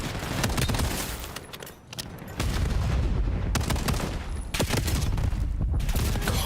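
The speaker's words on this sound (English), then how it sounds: "Practicing the pistol shot, man." Gunfire during a Call of Duty League Major IV qualifier match, pistol shots amid dense clusters of loud sharp cracks and bursts, close and repeated, with a brief lull partway through.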